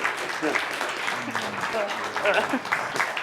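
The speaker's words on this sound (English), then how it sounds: "can we give our Peter and his team a round of applause and thank them for a wonderful" Audience applause follows a science presentation, moderate clapping running under overlapping voices and chatter throughout.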